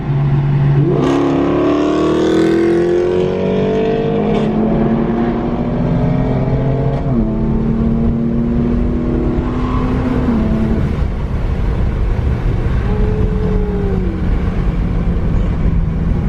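A BMW M4 and a Dodge Challenger Scatpack 392 launch in a drag race, engines roaring loudly as they rev and climb through several gear shifts, with rising pitch sweeps and brief drops at each shift, heard alone.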